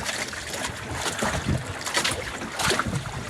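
A rowboat paddled through big waves over a long stretch from morning to afternoon, with steady wind and rushing water and a few louder splashes of the paddles standing out close by.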